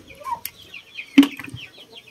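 Young chickens cluck softly in a pullet pen, with a sudden flutter of flapping wings partway through and faint chirps and clucks around it.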